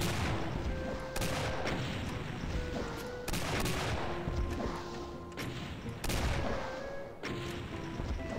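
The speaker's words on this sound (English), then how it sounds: "Oh boy, yep, bunch of rockets." Rockets firing in the video game The Golden Souls: repeated loud blasts and explosions at irregular intervals over a continuous dense rumbling game soundscape, with no talk.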